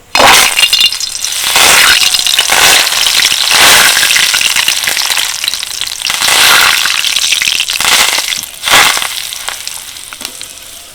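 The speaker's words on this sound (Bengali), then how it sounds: "আর ভাজবো কয়েকটা কারি পাতা আর এগুলো কিন্তু ভাজতে হলে খুব সাবধানে ভাজতে হবে কারণ সঙ্গে সঙ্গে কিন্তু চারিদিকে ছড়িয়ে যায়" Curry leaves fry in hot oil with loud, crackling sizzles that flare in bursts and die back, spitting and popping close at hand.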